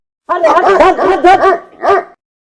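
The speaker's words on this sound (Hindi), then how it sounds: "अरे यार कुत्ता पीछे पड़ गया" A dog barks loudly and close by in a rapid run of several barks, then one final bark after a short pause, no talking over it.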